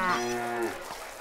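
One cow moos from a fortress full of cattle in the Stronghold strategy game, a short, moderately loud bovine call that slides downward and fades within a second, with no talk over it.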